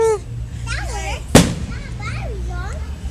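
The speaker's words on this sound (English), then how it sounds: "Let's watch the fireworks." Fireworks at a family outing: one sharp, loud bang stands out midway, while a young child chatters excitedly almost the whole time.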